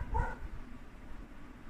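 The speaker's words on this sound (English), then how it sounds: "And then that dog pissed me off." A dog gives a single short bark near the start, fairly close, followed by quiet room background.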